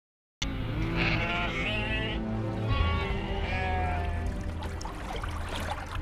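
Sheep and goats bleat repeatedly, with several wavering calls overlapping in close succession at moderate loudness, while narration-free farm ambience sits underneath.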